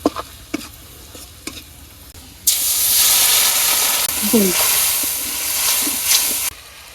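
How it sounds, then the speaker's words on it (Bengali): Turmeric and chili powder hit hot oil with a sudden loud sizzle and hiss that runs for about four seconds under stirring, after a few sharp knocks of a utensil against the pan. "এবার তেলের মধ্যে গুঁড়ো মশলা ভাজতে নেই"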